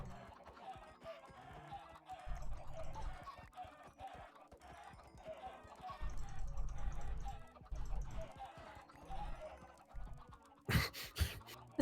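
Chickens cluck in the Minecraft video game, with repeated short clucks over a rhythmic background pattern and a brief burst of noise near the end.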